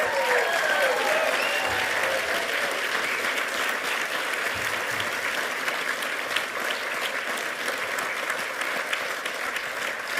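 An audience at the Victoria Australian of the Year Awards ceremony bursts into loud, sustained applause, dense clapping that holds steady for about ten seconds with no talking over it.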